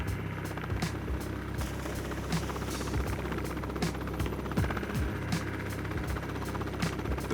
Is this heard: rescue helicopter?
yes